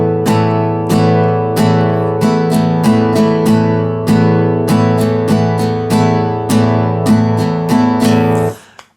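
Acoustic guitar chords strummed up close in a beginner's second strumming pattern, a quicker syncopated rhythm of about a dozen strokes over ringing strings, then muted to a sudden stop.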